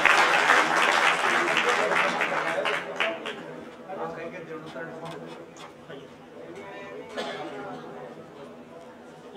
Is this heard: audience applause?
yes